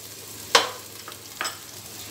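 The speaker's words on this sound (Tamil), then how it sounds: "தக்காளி போட்டு ஒரு கிண்டிக்கிறோம்." Tomatoes fry in a pan while being stirred, a low steady sizzle broken by two sharp scraping knocks of the spoon against the pan.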